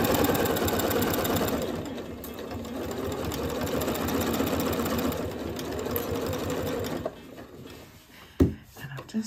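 Sewing machine running a backstitch on fabric, a steady fast mechanical whir for several seconds that stops, followed by a few handling clicks and knocks.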